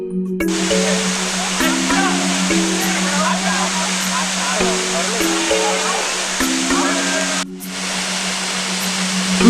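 A waterfall roars with a steady, dense rush of falling water that runs almost unbroken, overlaid by sustained tonal notes, dropping out briefly near the end.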